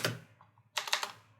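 Keystrokes on a computer keyboard while typing Python code: a loud first tap, a couple of soft presses, then a quick cluster of four or five sharp clicks, close and alone.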